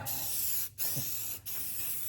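A continuous hissing spray from an aerosol paint can, broken by two brief pauses, close and steady.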